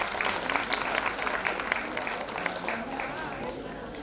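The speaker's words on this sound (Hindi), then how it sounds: "तो एक बार उन सब के लिए भी हम जोरदार तालियां बजाएंगे।" A crowd at a silver jubilee function bursts into loud, sustained applause, many hands clapping densely over a murmur of voices.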